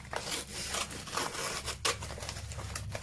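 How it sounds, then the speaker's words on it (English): Scissors slitting open an envelope of mail, a brisk dry scraping and rustling paper cut lasting a few seconds at close range, with a sharper snip partway through. "So I'm just going to run my scissors up here."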